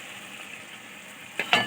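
A cauliflower, potato and pea curry sizzles steadily in a wok, a continuous close frying hiss, with a couple of sharper stirring scrapes near the end.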